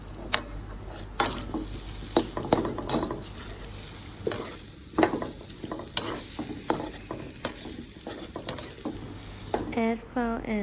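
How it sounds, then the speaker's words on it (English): Carrot and potato stir-fried in a pan, with repeated scraping and clattering stirs, a faint sizzle underneath and a few sharp utensil knocks against the pan throughout. "Add the carrot and potato to the pan and stir fry."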